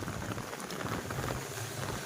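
Rain pours steadily in a broad, even hiss across the whole stretch, loud and close with a dense patter of drops on surfaces and no voices.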